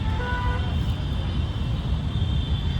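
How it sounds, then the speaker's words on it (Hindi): Steady road traffic noise drifts from outside a park into the quiet, a continuous low rumble of passing cars with no distinct vehicles standing out. "पीछे ट्रैफिक है बाहर की तरफ, जिसका शोर यहाँ तक सुनाई दे रहा है।"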